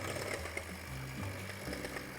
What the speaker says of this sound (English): We'll put the cream of tartar with the egg whites, and then we'll start to whisk it.